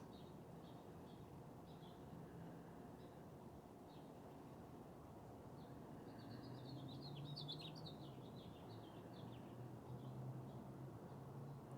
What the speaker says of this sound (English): Love hearing the birds sing.